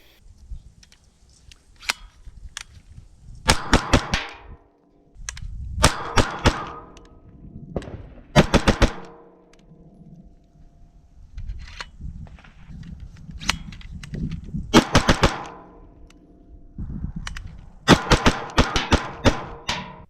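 CZ Scorpion Evo3 S2 firing outdoors, sharp cracks in quick strings and rapid bursts separated by pauses, loud and close with ringing echo after each volley.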